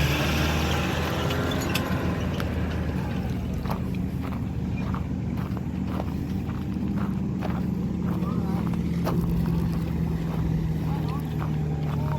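A motorboat runs on the river at Burrendong Dam, a continuous engine drone with wind and water noise heard close and loud throughout.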